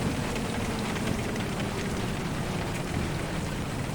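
Dense, steady rain pours in the Storm Chasers video game during a storm chase, a loud, unbroken hiss with no voices over it.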